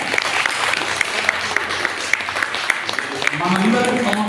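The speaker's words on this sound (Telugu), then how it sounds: "పూర్వక అభినందనలు, ధన్యవాదాలు మనం చప్పట్ల ద్వారా తెలియపరుస్తాము" Guests at a 65th birthday celebration applaud together, a dense, steady wash of clapping with a few sharper individual claps standing out, swelling slightly near the end.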